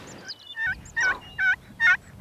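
Wild turkeys gobble on a Wyoming mountain hillside in a run of four loud, rattling gobbles at a steady rhythm, clear and fairly near, with no talking.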